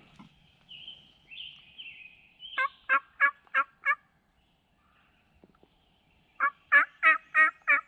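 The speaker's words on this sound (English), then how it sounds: "I think that other gobbler is over here gobbling." A wild turkey gobbler in Tennessee gobbles in two loud, rapid bursts of four or five rattling notes each, with a pause between them. Softer yelping calls come before the first burst.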